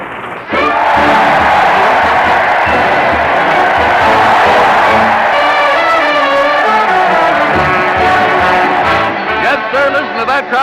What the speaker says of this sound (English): That crowd cheered Fred Allen as he heads his weekly parade to the old town hall